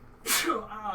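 A single sharp sneeze close by, a sudden breathy burst followed by a brief trailing exhale.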